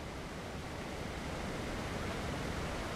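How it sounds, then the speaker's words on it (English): A loud waterfall in the video game ARK pours out a steady, dense roar of broadband rushing water that holds even and unbroken throughout, with no voices over it. "That's the thing about waterfalls in Ark. They look fantastic. However, they are very, very loud."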